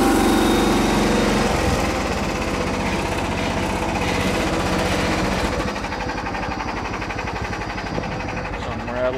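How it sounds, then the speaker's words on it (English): A restored John Deere Hydro 175 lawn tractor engine runs close by with a steady, loud chugging drone and a fast mechanical rattle from a loose belt underneath. "Something's rattling on it though. I think it's the belt."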